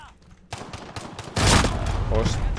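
Shotgun blasts in the video game Call of Duty Modern Warfare, loud booming shots and gunfire that swell into a dense, sustained roar in the second half, with a voice talking at the start.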